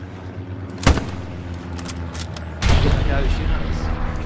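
A close, sharp shot cracks out in the World War II shooter Hell Let Loose, followed by a second loud burst of gunfire that rolls on with rumbling echoes and distant battle noise.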